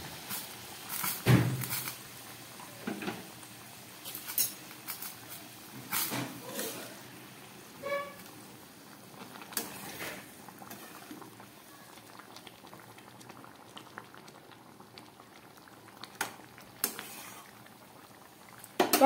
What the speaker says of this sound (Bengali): এবারে আমি এর মধ্যে দিয়ে দেবো এই উষ্ণ গরম জল